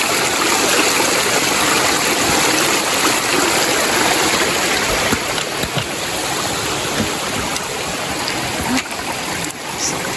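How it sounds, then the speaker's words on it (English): Creek water rushes loud and close during a hiking crossing of North Coldwater Creek near Mount St. Helens, a constant churning roar that barely varies throughout. "I would call this a bona fide creek crossing"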